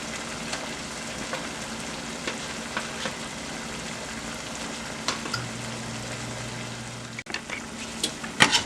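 Shrimp sizzles in a pan of thickened garlic sauce, a steady dense crackle with small pops and a few sharper clinks near the end, close and continuous with no voices.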